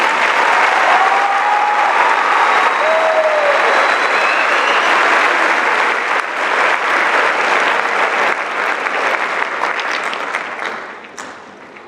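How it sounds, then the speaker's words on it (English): A large crowd applauds the graduating class of 2016 at a university commencement, loud sustained clapping filling the space with a few whistles, gradually thinning toward the end. "Let's give the class of 2016 another round of applause."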